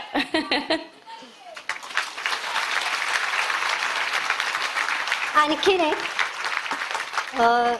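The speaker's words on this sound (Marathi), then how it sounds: "तुम्ही आता इतके जण टाळ्या वाजवताय ना" A large audience at a women's heart conference breaks into sustained, dense applause lasting several seconds, with a speaker's voice before and after and some laughter mixed in.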